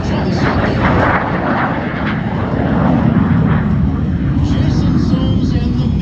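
A MiG-17 jet fighter roars past at an airshow, a loud, continuous engine rush that holds steady for several seconds, with a voice faintly under the noise.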